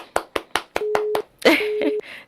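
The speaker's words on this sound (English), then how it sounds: "Clap for yourself." Hands clapping in quick rhythmic bursts, about half a dozen crisp claps, then a jumble of noisier sound mixed with a faint steady tone, close and fairly loud, with no talk.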